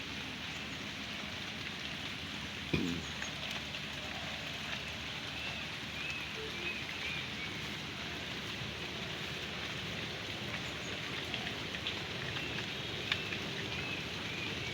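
Steady rain falls in a village, a constant even hiss of drops on surfaces with one sharp knock early on and faint chirps in the background.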